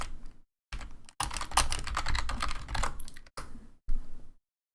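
Rapid clicking from a computer keyboard during typing, coming in several close, crisp bursts with brief pauses between them, with no voices.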